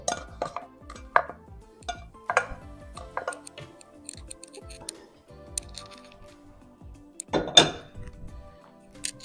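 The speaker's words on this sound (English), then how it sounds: "We'll scrape the rest of that into the sauce." A utensil scrapes leftover sauce into a pot of spaghetti sauce, giving short clinks and scraping strokes against metal with quiet pauses between them, close by and fairly faint.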